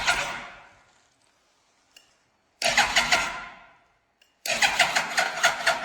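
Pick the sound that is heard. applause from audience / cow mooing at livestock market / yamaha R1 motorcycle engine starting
yamaha R1 motorcycle engine starting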